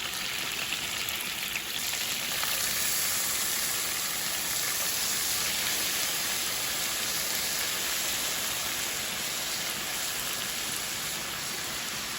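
Shrimp sizzling in butter in a hot pan, a dense, steady hiss of frying that stays loud and even throughout, heard up close with no talking.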